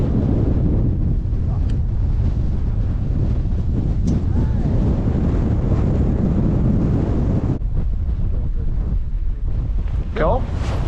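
Strong blizzard wind roars continuously across the microphone during a duck hunt, a loud steady rushing with gusts, and faint voices underneath.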